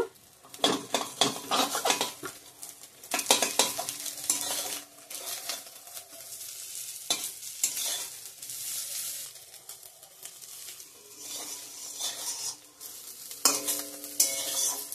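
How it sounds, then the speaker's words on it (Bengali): Egg omelettes fry in a pan for an omelette and tomato curry, a close sizzle broken by repeated metal spatula scrapes and clinks against the pan in irregular bursts, with no voices. "টমেটো দিয়ে ডিমের অমলেট কারি করার জন্য ডিমের অমলেটগুলো করে নিচ্ছি।"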